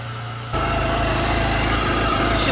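A 1997 Jeep TJ engine starts up and settles into a steady, loud idle after a brief quiet moment, with a slight exhaust manifold wonkiness, heard up close with no talking.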